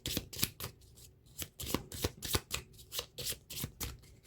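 Playing cards are riffled and shuffled close by in a quick, regular series of crisp fluttering bursts, about two or three per second, with no talking.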